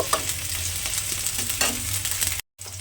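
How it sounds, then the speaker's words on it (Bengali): Capsicum pieces sizzle and crackle in hot oil while being stirred, close by, with a brief cut to silence near the end. "ক্যাপসিকামটা তেলের মধ্যে দিয়ে একটু নেড়ে ছেড়ে ভাজা ভাজা মতো করে নেব"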